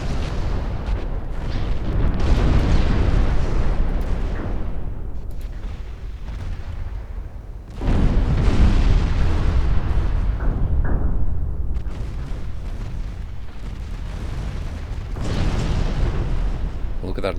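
Light cruiser 3-inch naval guns firing in the Ultimate Admiral Dreadnoughts naval battle game, loud rumbling booms in dense overlapping bursts that swell and fade across the whole stretch.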